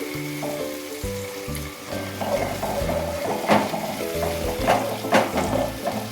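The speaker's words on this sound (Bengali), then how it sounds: "এবারে সামান্য জল দিয়ে একটু নাড়বো যাতে মশলাটা পুড়ে না যায়" Bengali puti fish curry spice paste sizzling as a little water goes in and a spoon stirs it, a dense frying hiss with sharp scraping bursts over a steady tonal background.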